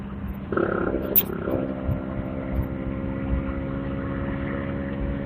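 A racing-tuned Vespa scooter set up for top speed hums along at a steady low drone while being ridden, fairly quiet and even, with a brief click early on and no talking.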